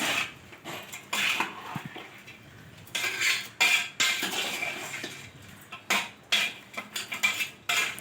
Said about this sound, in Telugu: ఒక పిరికెడు వేసుకున్న తర్వాత బాగా కలుపుకోవాలి